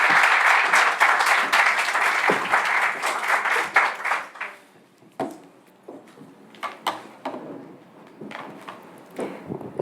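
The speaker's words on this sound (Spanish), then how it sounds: "Un aplauso para ella." An audience at the closing of an art historians' scientific conference bursts into loud, dense applause for about four seconds, then it thins out into scattered, fading claps.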